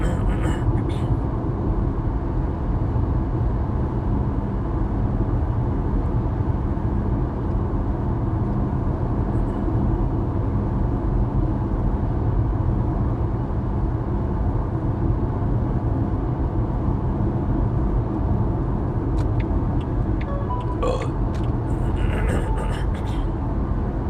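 Steady broadband tyre roar from a Nio ES8 electric SUV on 21- or 22-inch wheels rolling over old, rough asphalt, a constant low rumble filling the cabin with no engine note, brief faint clicks near the end.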